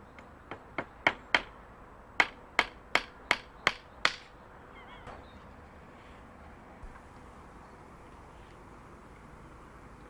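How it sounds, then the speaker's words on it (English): A hammer drives nails into wooden uprights in a quick run of about ten sharp, ringing blows over four seconds, clustered in two bursts, followed by quieter outdoor ambience. "Fix them together with a hammer and nails."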